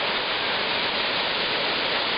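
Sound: waterfall in Ilemnia village

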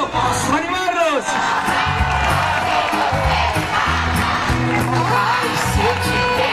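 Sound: crowd applauding and cheering at bull event

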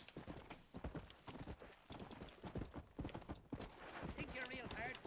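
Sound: horse galloping in the video game Red Dead Redemption

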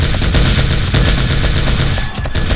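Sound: gunfire from a gun in 7 Days to Die video game

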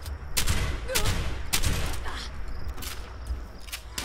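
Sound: gunfire in the video game Fallout 76

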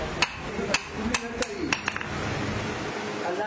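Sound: hammering steel on block forging a sickle

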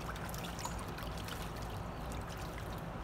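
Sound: duck dunking and splashing in bath water

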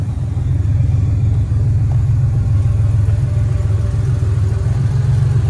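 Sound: 1982 Porsche 911SC engine running at cold idle

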